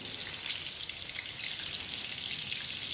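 Food deep frying in hot oil gives a steady, dense sizzle and crackle, close and continuous for a few seconds with no talking.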